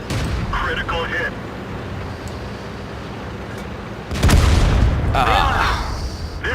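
A tank shell lands a critical hit in the video game World of Tanks, a sudden loud boom after a quieter stretch of rumbling engine noise, with speech mixed faintly in.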